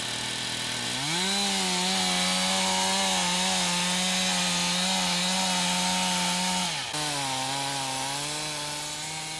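A chainsaw making a plunge cut into the side of a backward-leaning tree during felling: the engine revs up sharply, holds a steady loaded whine for several seconds, then dips briefly and settles again.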